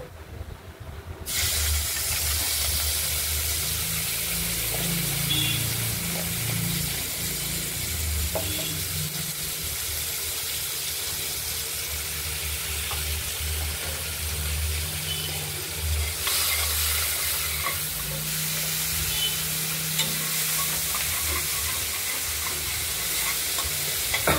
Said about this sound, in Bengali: তেলটা গরম হলে চিংড়ি মাছগুলোকে আমরা ভেজে নেব